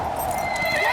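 A cartoon horse whinnies over steady clip-clopping hooves, loud and close throughout a brief moment with no talk.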